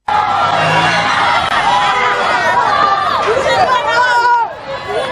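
An angry crowd surrounds the vehicle of the mayor of Maroua, a loud, continuous babble of many agitated voices close by, easing slightly near the end.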